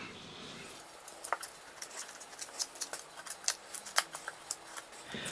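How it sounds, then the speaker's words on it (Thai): A run of light, crisp scraping strokes, roughly rhythmic and close, as skin is peeled off sweet potatoes, with no talking. "ปอกเปลือกเลยครับ"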